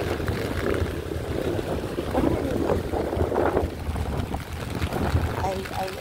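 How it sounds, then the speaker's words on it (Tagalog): Strong gusty wind buffets the microphone outdoors on a rainy day as someone walks near a school with an umbrella, a steady rumbling roar with surges, with occasional talk. "Ay, lakas ng hangin."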